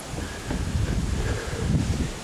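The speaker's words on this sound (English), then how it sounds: "It's really windy, so sorry if you can't really hear what I'm saying." Strong, gusty Hurricane Sandy wind buffets the microphone outdoors on steps beside fallen trees, a loud continuous roar with surging gusts and no speech.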